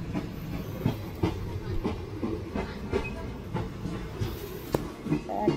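Rhythmic clickety-clack of train wheels over rail joints in Indian Railway Train Simulator, an ICF coach train slowly accelerating through Mumbai in the evening, steady rumble with regular sharp clacks and no talk.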